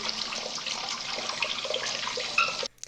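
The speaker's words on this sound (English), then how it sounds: "you would have to turn the water on for water to come out of the faucet" Water pours steadily from a faucet in a film scene set at an old, long-closed summer camp, a continuous hiss that runs alone for nearly three seconds, then cuts off abruptly.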